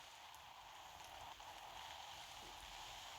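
Rain in the video game Roblox, falling through a wall, a faint, steady hiss of rain pattering on a surface with no voices.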